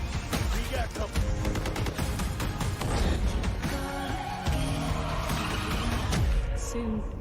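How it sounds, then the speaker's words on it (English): Gunshot effects hammer as percussion in game trailer music, rapid rhythmic bursts punching through a loud, dense musical mix with crashing hits, heavy throughout. "What's with the cliche of like gunshots being used as like drums?"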